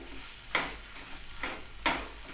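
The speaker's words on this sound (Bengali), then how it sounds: "এবার লাস্ট একটু ভালো করে কষিয়ে নিতে হবে গ্যাসের ফ্লেমটাকে আমি ফুল করে দিয়েছি" Ridge gourd curry is stir-fried dry in a pan over a full gas flame, with a steady close sizzle. Three distinct scraping strokes of the spatula stand out, and no one speaks.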